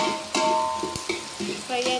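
Tempering for mango dal frying in a pan, a steady sizzle broken by a few sharp crackles and stir-clatters, close and fairly loud with no talk.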